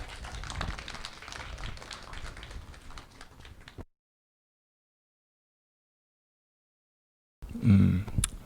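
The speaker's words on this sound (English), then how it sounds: "Please give a big round of applause for him." A concert audience applauds a pianist at a benefit performance for peace in Ukraine; a few seconds of scattered, moderate clapping that cuts off into silence, then a short burst of other sound.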